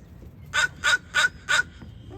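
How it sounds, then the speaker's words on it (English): Four loud, evenly spaced caws from an American crow close by on a boardwalk, each harsh call about a quarter second long, with quiet background in between. "Well, the crow came closer."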